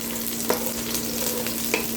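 Continuous crackling sizzle of onion frying in hot oil, close and steady, with a couple of light clinks.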